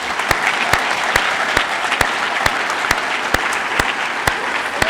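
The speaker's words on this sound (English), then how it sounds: "Let's give him one more round of applause." Applause from a crowd of students at a school Veterans Day assembly, a dense steady clapping wash with a few sharp, evenly spaced loud claps standing out, lasting the whole stretch.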